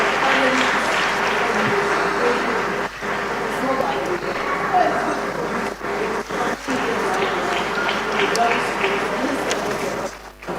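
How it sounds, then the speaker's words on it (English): An audience claps warmly at the close of a healthcare discussion event, a dense, continuous round of applause in a hall that holds steady before tapering near the end. "Just a warm round of applause."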